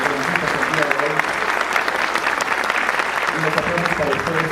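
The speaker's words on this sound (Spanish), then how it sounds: "fuertes los aplausos para nuestros dos conferencistas el día de hoy" Audience applauding two conference speakers at the close of a congress session, a steady dense clapping that fills the whole stretch, with a few voices briefly audible underneath.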